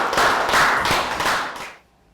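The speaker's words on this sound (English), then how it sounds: "Round of applause." A short burst of dense applause, many hands clapping together for about a second and a half, then cutting off abruptly into quiet.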